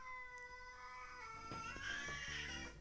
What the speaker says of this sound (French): Pourquoi qu'elle s'est mis à miauler de même?